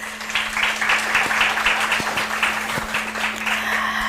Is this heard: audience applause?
yes